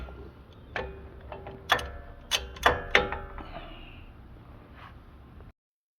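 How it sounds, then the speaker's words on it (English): A breaker bar and half-inch wrench crack the wheel hub bolts loose on a 2015 Ram 1500 2WD, giving a few sharp metallic clicks and clanks in a cluster, then quieting before the sound cuts out. "then my breaker bar to crack these loose"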